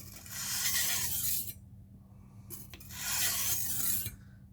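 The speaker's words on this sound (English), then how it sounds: "This is my first time sharpening this knife." Knife edge being sharpened on a whetstone, two distinct scraping strokes of grinding rasp, close and fairly quiet, separated by a short pause over a faint steady hum.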